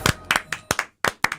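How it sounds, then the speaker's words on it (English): A few people clap in a studio in a short, uneven burst of about eight sharp, close hand claps with brief pauses between them. "Why are we clapping?"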